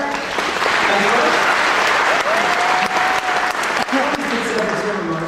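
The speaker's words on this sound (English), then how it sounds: "Big round of applause here." Steady, loud applause from a large crowd at a Honda Asimo robot presentation at Georgia Tech fills the whole stretch, with a voice speaking faintly over the clapping.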